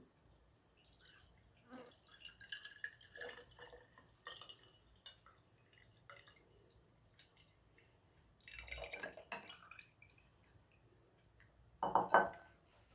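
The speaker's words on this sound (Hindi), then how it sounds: "तो सबसे पहले मैं ये एक जार में ये पानी डाल दूंगी।" Water trickles and pours into a jar, with drips, glassy clinks and knocks from kitchenware over a quiet background, ending in a brief louder splash for a green chilli pickle recipe; no one speaks.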